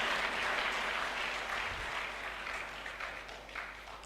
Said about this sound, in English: Oh, put your hands together.